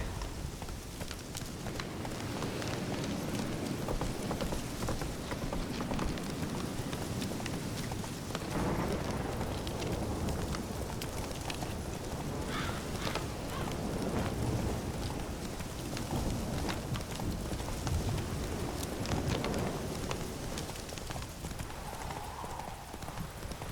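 Horse galloping in The Witcher 3, a steady rapid clip-clop of hooves running continuously at close range, with a faint rain-like wash in the background and occasional brief voice.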